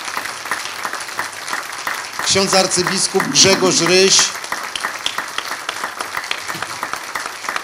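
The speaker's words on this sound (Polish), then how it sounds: "proszę o wielkie brawa dla panelistów" Audience at a panel discussion in Łódź bursts into applause for the panelists, a dense burst of clapping lasting about two seconds, with someone speaking before and after it.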